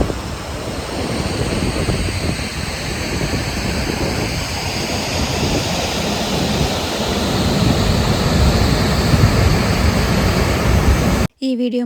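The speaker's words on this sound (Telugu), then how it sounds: "నేను ఎన్నో వాటర్ ఫాల్స్ చూసినా కానీ ద బెస్ట్ వాటర్ ఫాల్ అంటే ఇదే." Hidden waterfall, a steady broadband rush of falling water filling the scene loud and near, continuous throughout with a brief cut near the end.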